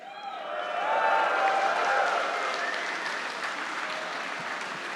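Large crowd applauding at a convention opening ceremony, clapping swelling quickly and holding steady with some cheering mixed in, fairly loud and continuous throughout.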